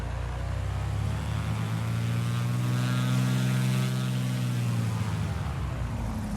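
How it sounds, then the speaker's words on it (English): Cessna C182T piston engine and propeller in a flight simulator, a steady loud drone with a deep engine grunt and layered propeller whine holding throughout, no talk. "that transition from the grunt of the engine to the whine of the prop"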